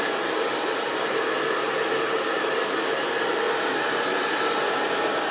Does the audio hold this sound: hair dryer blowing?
yes